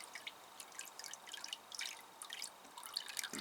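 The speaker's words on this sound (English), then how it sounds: "You can see it's draining quite quickly now." Water drains from the bottom of a freshly watered plant pot in quick, irregular drips and small splashes, close and fairly quiet, with no voices.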